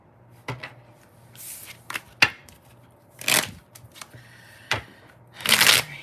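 Tarot cards being shuffled nearby in short, irregular riffles and slaps, separated by quiet pauses, with a faint low hum underneath.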